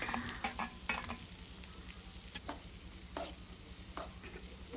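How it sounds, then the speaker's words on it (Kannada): Chopped onion frying in four to five spoons of oil as tempering for a village-style drumstick-leaf sambar: a soft, quiet sizzle with a few light spatula scrapes and taps near the pan. "ಒಗ್ಗರಣೆ ಮಾಡೋಕ್ಕೆ ಒಂದು 4-5 ಸ್ಪೂನ್ ಎಣ್ಣೆ ಹಾಕೋತಾ ಇದ್ದೀನಿ. ಅದಕ್ಕೆ ಸ್ವಲ್ಪ ಈರುಳ್ಳಿ ಕಟ್ ಮಾಡ್ಕೊಂಡು ಹಾಕೋತಾ ಇದ್ದೀನಿ."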